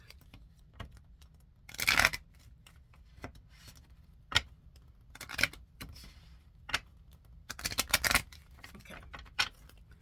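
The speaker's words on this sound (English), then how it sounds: "these cards are getting so much easier to shuffle now" A deck of playing cards is shuffled by hand: two loud rattling riffle bursts and several lighter flicks and taps, close by. A single brief spoken word is heard.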